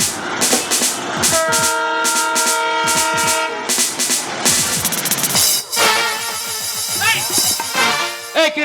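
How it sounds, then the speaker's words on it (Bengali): Staged train effect in a Bengali gajon folk play: loud sustained horn-like tones over rhythmic clattering bursts, with voices and music around it throughout. "এই ট্রেন আসতে দে। ট্রেন আসতে গেছে।"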